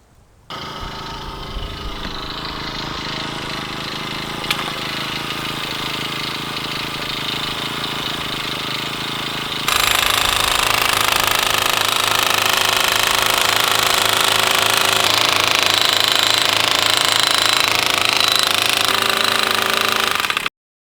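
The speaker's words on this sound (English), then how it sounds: "we use a gas-powered post pounder to slam our T-posts into the ground" A gas-powered post pounder drives metal T-posts into the ground for a field fence, its motor running steadily with a rapid mechanical hammering that grows louder and denser partway through.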